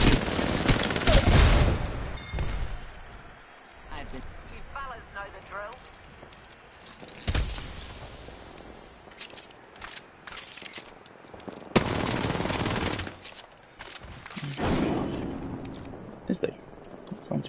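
Rapid game gunfire from an Apex Legends weapon crackles in loud bursts, heaviest at the start and again near the end, with quieter stretches between and a player talking over the action.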